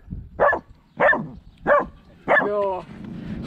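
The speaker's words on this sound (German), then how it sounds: "Kannst du schon richtig bellen?" A dog barks four times in a steady rhythm, close and loud, the last bark drawn out into a longer, whining yelp.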